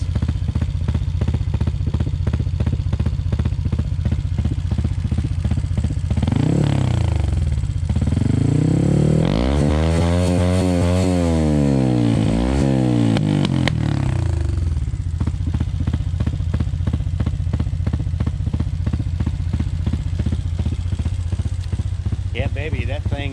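A Honda CT motorcycle engine with a hot camshaft idles roughly and hunts, its putter rising and falling through a brief revving swell midway, loud and close, with a voice talking over it.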